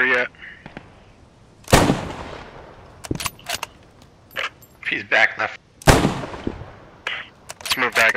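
Artillery fire in the video game Post Scriptum, with two heavy booming blasts standing out among sharper clicks and smaller reports, while voices talk in between.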